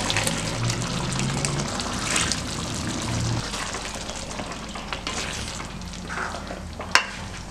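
Continuous sizzling and bubbling of a simmering brinjal tamarind curry, with a brief splash of ground coconut paste being added and a sharp clink near the end.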